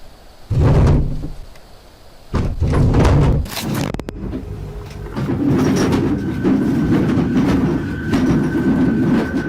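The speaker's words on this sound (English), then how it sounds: "It sounds like all the dishes inside are jumping around." Loud clattering bursts of dishes rattling inside a cupboard, with two sharp bangs early on, then a steadier rumbling rattle that continues to the end; no talking.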